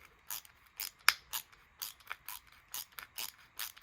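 A cheap non-magnetic drill bit held in an EDC bit driver cuts into material. It gives a faint, rhythmic run of crisp scraping, ratchet-like clicks about every third of a second, with nobody speaking.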